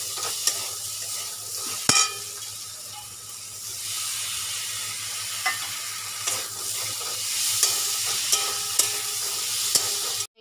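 Ghugni, a pea curry with garlic paste, chana masala, chili powder and turmeric, sizzles steadily in a pan while a spoon scrapes and clacks against it at irregular intervals, close and alone.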